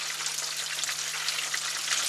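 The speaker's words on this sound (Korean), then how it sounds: "굴이 사실 수분이 있어서 좀 이렇게 튀길 수 있어요" Breaded oysters deep frying in hot oil give off a steady, dense sizzle and crackle that holds evenly throughout, close and alone, with no talking.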